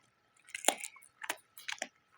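A dog crunches on an oven-baked Nepalese yak chew stick, giving a few close, crisp bites in short bursts separated by brief pauses.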